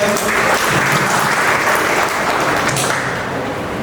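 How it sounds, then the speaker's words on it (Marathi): Children at a summer training camp clap loudly together, a dense, continuous burst of applause that holds steady and eases slightly toward the end, with faint voices mixed in. "जोरदार टाळ्या वाजवून द्या"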